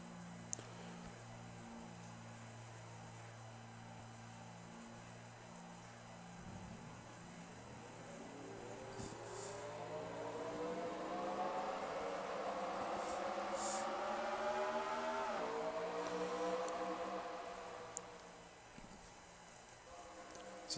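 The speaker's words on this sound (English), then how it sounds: "Drivers, start your engines." Race car engines at Las Vegas fire up and rev together, a low idling drone that swells into a broad, rising roar over several seconds, then eases off.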